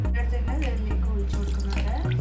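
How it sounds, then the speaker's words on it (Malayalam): A cup of water is poured into a pressure cooker holding red lentil dal, giving a steady splashing flow with a low droning hum underneath. "നമുക്കിതിലേക്ക് ഒരു കപ്പ് വെള്ളം ഒഴിച്ചു കൊടുക്കാം."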